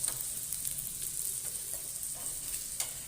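Methi paratha frying in ghee on a griddle, a soft continuous sizzle with faint crackles throughout, close and fairly quiet.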